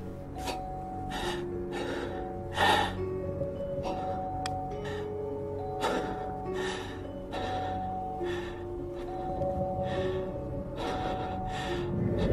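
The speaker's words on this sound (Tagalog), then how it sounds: "Maririnig sa video na tila hinihingal ang kumukuha ng video dahil sa takot." A frightened person breathes heavily and pants close to the microphone, with repeated sharp gasping breaths over a steady background hum.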